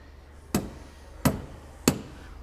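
Three sharp, evenly spaced knocks on a car voltage regulator, each a short loud tap with a quick decay, nearby and alone against a quiet background.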